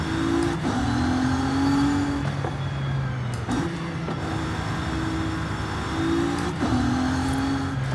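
A twin-turbo W12 Bentley Flying Spur in Forza Horizon 5 drones steadily up close, its engine tone climbing through repeated gear pulls and dropping at each of a few shifts across the stretch, with no talk over it.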